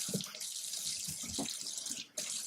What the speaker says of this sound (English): Always want to wash your hands when you're dealing with raw meat.